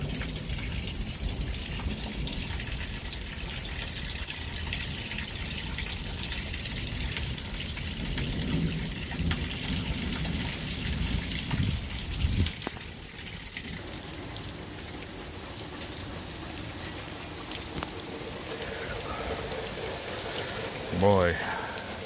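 Steady rain during a storm in Albertville, Alabama hisses and patters on surfaces throughout, a continuous wash of sound that shifts partway through, with faint sounds now and then.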